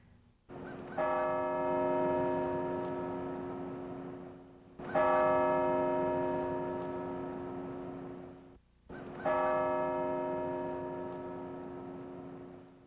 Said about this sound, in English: they do the bells, and that's the hardest thing, is listening to 35 bells